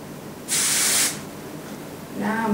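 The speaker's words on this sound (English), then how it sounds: "Now I'm going to take my hairspray and just kind of work this back." Hairspray from an aerosol can sprayed onto styled hair: one loud, steady hiss of about half a second, followed by quieter rustling as the hair is worked back.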